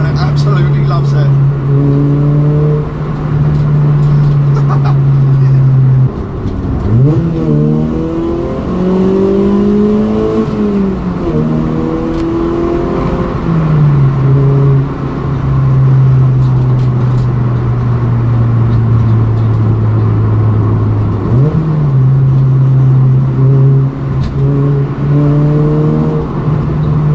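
A modified Ford Fiesta ST150 engine drones loudly from inside the car while driving, with steady cruising hum broken by surges of revving and rising acceleration through gear changes.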